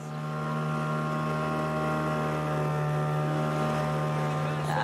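A steady, droning motorboat engine hum with a strong low tone runs continuously and close by, on a boat tour in Malta.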